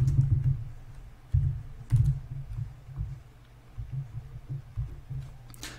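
Computer keyboard keys are pressed during gameplay in a quiet room, giving soft, low clicks and thumps in irregular bursts, close but faint.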